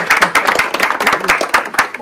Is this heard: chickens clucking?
no